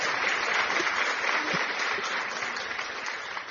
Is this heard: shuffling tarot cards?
no